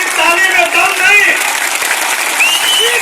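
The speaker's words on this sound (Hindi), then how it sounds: "जोरदार ताली, जोरदार ताली" Audience applause at a weavers' conference (Bunakar Sammelan) greeting a guest, a dense, steady clatter of many clapping hands lasting throughout, with an amplified voice speaking over it.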